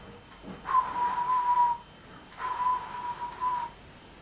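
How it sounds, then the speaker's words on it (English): Two sustained, steady steam engine whistle tones, each lasting about a second, separated by a short pause, fairly faint over a quiet background, in Tasmania. "the noise of an engine whistling lightly"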